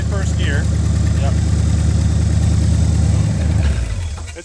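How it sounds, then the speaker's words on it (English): An abandoned muscle car, started for the first time in 35 years, idles with a steady low rumble at close range before the engine note drops away near the end. "It's hard to keep working on it just because I enjoy the engine running so much."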